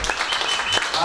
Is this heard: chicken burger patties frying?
no